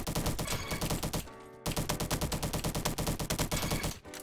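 Rapid automatic gunfire from an SM-03 weapon in a video game, loud, continuous bursts of fast shots with one short pause before firing resumes, then a brief break near the end.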